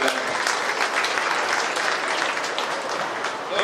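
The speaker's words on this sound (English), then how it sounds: "Let's give Tyler a big round of applause." A crowd at a county fair goat show gives sustained, lively applause, a dense wash of many hands clapping that carries on steadily, with a faint voice underneath.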